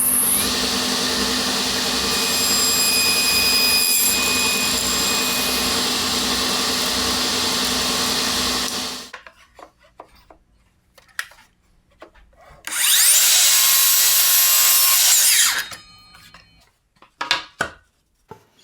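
A 1908 table saw rips through wood with a loud, sustained whine for several seconds, then after a quiet pause a Makita miter saw makes a short, bright cut, with tool clatter around it.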